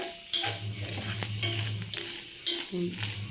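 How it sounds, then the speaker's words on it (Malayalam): A spoon scrapes and clinks against a hot iron wok while grated coconut is stirred and roasted, giving a few sharp metallic knocks over a soft, steady background hiss, close and moderately loud with no talking. "പിന്നെ ചീനച്ചട്ടിയുടെ ചൂടിലിങ്ങനെ ഇളക്കി കൊടുത്താൽ മതി"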